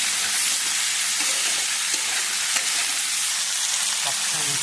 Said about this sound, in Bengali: এবারে দেবো চিচিঙ্গা দিয়ে আর একটু কষাবো।